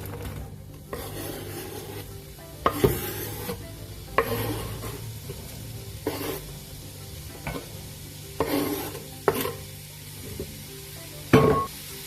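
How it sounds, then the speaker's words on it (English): Onions sizzle softly in oil in a pan while utensils stir and scrape, with several sharper clatters of metal on metal spaced through the clip; no voices. "We got a nice sizzle on the go."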